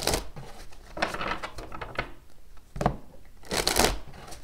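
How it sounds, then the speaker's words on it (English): Tarot cards are riffled and shuffled by hand in several quick, crisp bursts with short pauses between, close and fairly loud. "I always pre-shuffle these, but I always do a very good shuffle on camera"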